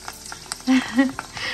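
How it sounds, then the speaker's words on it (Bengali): Fuchka puris frying in hot oil, giving a brief, close, crackling sizzle with a couple of short, louder bursts. "ফুচকা অলরেডি অনেকগুলো ভাজাও হয়েছে, ফুচকা ভাজি চলতেছে।"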